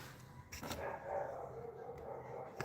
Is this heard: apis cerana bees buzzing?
no